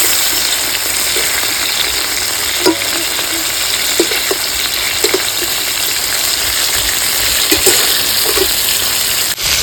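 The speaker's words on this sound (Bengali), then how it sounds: "মাছগুলো ভাজা হয়ে গেছে" Fish frying in oil in a home kitchen, a loud continuous sizzle with occasional spits and crackles throughout.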